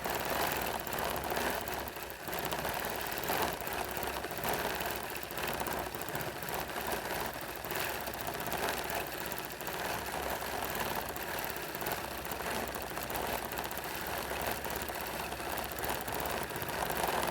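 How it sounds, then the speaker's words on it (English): A sewing machine set to about 14 stitches per inch runs steadily while stitching a Halloween quilt. It makes a continuous, even mechanical whir with a fast rhythmic chatter that stays at a moderate level for the whole stretch. "I have this set about 14 stitches to the inch."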